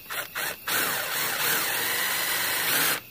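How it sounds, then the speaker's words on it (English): Power drill driving screws into wood for pocket hole and toenail joints, a couple of short whirring bursts followed by one long, steady drive, close and loud. "Throw a couple screws in here and see how she looks"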